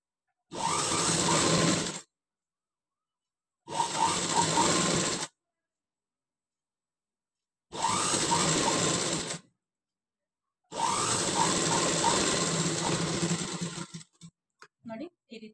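A sewing machine stitches a lining piece in four loud, rapid bursts of whirring needle clatter separated by short pauses, followed by a few faint clicks.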